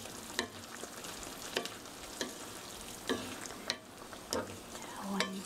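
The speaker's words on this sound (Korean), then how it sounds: "이렇게 해서 살살 저어 주시고요" A tofu sauce with salt and mushrooms is gently stirred in a pan, giving soft rhythmic scraping strokes about once a second over a steady low sizzle, close and moderately quiet.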